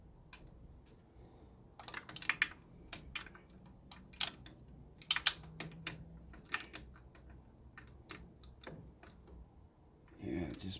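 Ratchet socket wrench clicking in a cramped engine bay during an AC compressor install on a 1966 Ford Mustang, with scattered sharp close clicks and taps spread across the clip among other handling noises and some speech.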